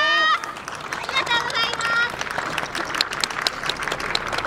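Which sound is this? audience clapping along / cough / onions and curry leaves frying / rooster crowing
audience clapping along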